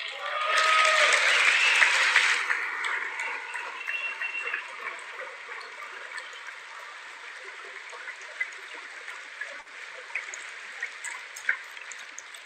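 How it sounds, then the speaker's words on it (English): Applause in a large legislative chamber, loud at first and then fading into scattered claps for several seconds. "I wasn't sure if anybody, even on this side, was going to applaud for that."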